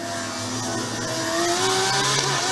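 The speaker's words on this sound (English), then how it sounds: "That car does sound nice" Formula Student endurance race car passing, a steady engine drone that rises in pitch as it accelerates, moderately loud and growing slightly nearer over a few seconds.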